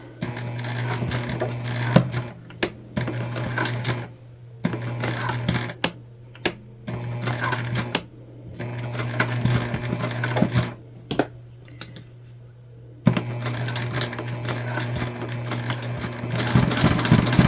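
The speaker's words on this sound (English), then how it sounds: "And we're just stitching on a little less than 1/4 inch." A sewing machine stitches a jelly vinyl pouch with a tank foot, running in close, loud bursts of rapid whirring with brief pauses between runs.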